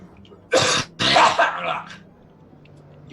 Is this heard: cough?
yes